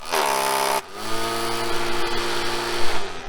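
A Ryobi ONE+ 18-volt cordless string trimmer whirring at high speed close by, then dropping to a lower, softer hum as it slows, with a mild electric whine throughout.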